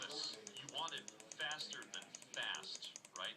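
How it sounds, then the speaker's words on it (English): A button on a board clicked over and over in quick, uneven succession, the sharp clicks close and fairly quiet, with a voice faintly heard at times. "you repeatedly click until you see a yellow light"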